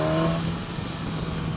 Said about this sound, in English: Real nice exhaust note when you get on it.